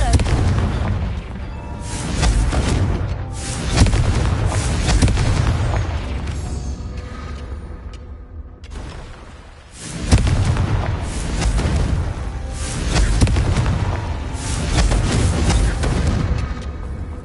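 Confringo blasting spell explosions in the Hogwarts Legacy video game, a series of loud booming bursts with rumbling tails, fairly continuous for the whole stretch with a short lull near the middle.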